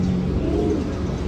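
Racing pigeons coo and call at a loft during a race arrival in Pagbilao, Quezon, a steady close bird murmur over background noise.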